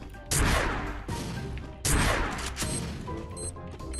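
Explosive launcher gunfire in the mobile shooter Free Fire: two loud, sharp blasts that each tail off into a rumbling decay, then smaller clattering hits toward the end.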